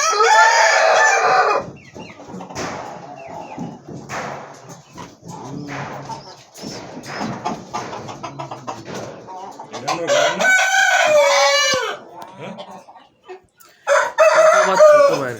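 Chickens on a farm clucking with a large hen among them and a rooster crowing loudly and close, calls coming in bursts separated by quieter gaps with some background voices.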